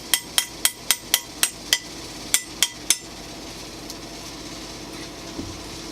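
A hand tool is used as a hammer while pulling up carpet from a concrete floor, giving about ten sharp, loud strikes at a quick, even pace that stop abruptly and leave quiet room tone.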